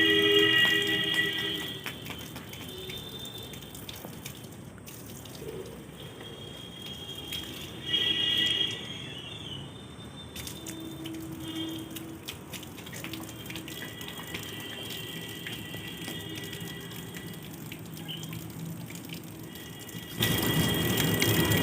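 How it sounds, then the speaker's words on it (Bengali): Water is poured onto potted plants in a garden with lemon trees, a steady splashing trickle that runs for about twenty seconds with small shifts in flow and a louder gush at the end. "গাছেতে জল দিয়ে দিচ্ছে।"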